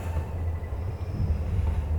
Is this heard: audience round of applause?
no